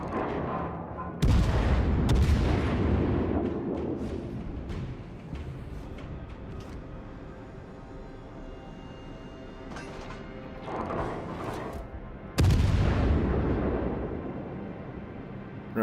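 Heavy naval gunfire in the World of Warships video game, with deep booming salvos around 1 s, 2 s and 12.5 s standing out loud over a continuous rumbling battle backdrop.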